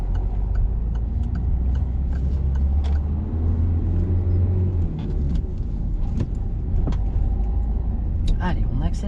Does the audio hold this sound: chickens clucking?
no